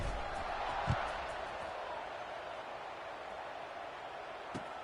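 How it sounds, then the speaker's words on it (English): A college football stadium crowd at Arkansas State versus Missouri State buzzing after a score, a steady distant wash of voices and murmur with a couple of faint thumps, heard beneath an announcer's talk. "this crowd is buzzing after that last score"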